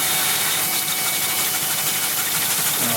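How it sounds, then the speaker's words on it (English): A coolant pump runs on a CNC lathe with a steady, loud, hissing whir of spraying fluid that holds constant throughout, with no voices. "I'll just switch on the coolant,"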